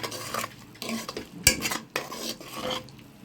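A spoon stirs turmeric and salt into chopped vegetables in a metal pot, giving several close scraping clinks and rustles in an uneven rhythm with a faint sizzle beneath.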